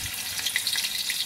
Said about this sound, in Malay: Apabila minyak masak sudah panas, masukkan bahan-bahan yang telah ditumbuk tadi.